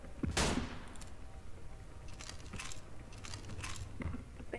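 Gunfire in a Garry's Mod World War II roleplay game, heard as a loud close shot followed by a string of quieter, scattered bursts against a steady noisy background.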